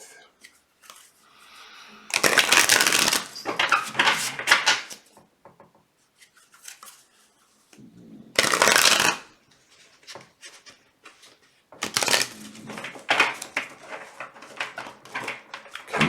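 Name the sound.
shuffling tarot cards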